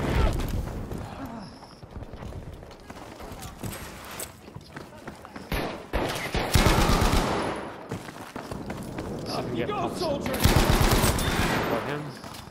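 Bren light machine gun bursts in a hardcore team deathmatch video game on the Iwo Jima map, repeated rapid rattling volleys close by amid other battle noise, with people talking over it.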